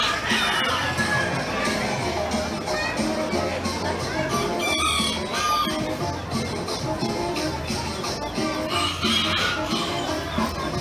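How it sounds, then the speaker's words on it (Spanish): Chickens at a poultry sale of blue Kikiriki hens cluck and crow continuously amid a loud, busy crowd with shouting voices, the birds audible throughout under the steady din. "Una gallina blue."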